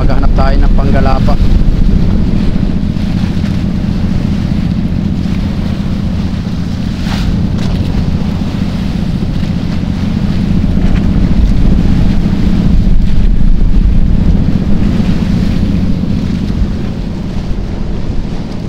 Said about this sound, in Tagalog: ang lakas ng hangin ay kwan, bumubugso siya ng 30